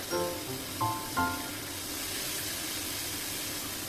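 Fermented sour fish (pla som) frying in hot oil in a pan, a steady broad sizzling hiss lasting throughout, with a few brief clinks and knocks near the start.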